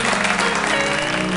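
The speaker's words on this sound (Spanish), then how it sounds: "Fuerte el aplauso" An audience applauds at a reggae awards ceremony, a brief, dense burst of clapping from a crowd, steady and fairly loud with a murmur of voices underneath.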